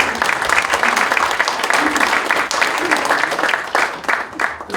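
A church congregation claps together for a visiting former prime minister during a New Year worship service, a dense, steady wave of applause filling the room with a few faint voices mixed in.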